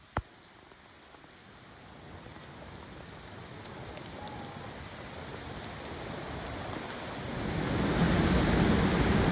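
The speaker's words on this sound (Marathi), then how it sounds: "इतका भयानक पाऊस चालू झालाय" Steady heavy rain pours down during a trek to Kalu Waterfall, a dense wash of noise that swells louder toward the end, with no voices.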